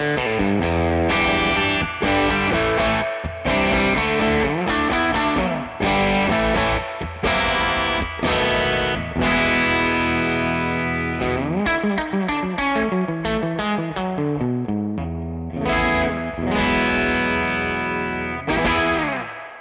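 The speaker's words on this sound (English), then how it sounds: "with a bit of drive, the reverb still isn't getting in the way too much" Electric guitar played through a Bad Cat Cub V handwired amp with overdrive and reverb, a loud, steady run of strummed chords and picked notes that keeps ringing for the whole stretch with no talking.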